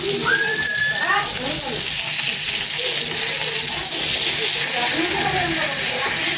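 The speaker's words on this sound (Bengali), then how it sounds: "মাছ ভাজতেছি" Fish sizzles steadily in a frying pan on a home stove, a continuous bright hiss that holds evenly throughout. A brief chirp-like tone rises near the start, and faint voices sit low beneath the sizzle.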